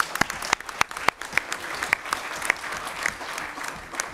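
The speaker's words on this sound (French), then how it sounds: "on peut l'applaudir effectivement" Audience applause fills a municipal council meeting hall, a steady bed of clapping hands with sharper individual claps popping out, sustained throughout without speech.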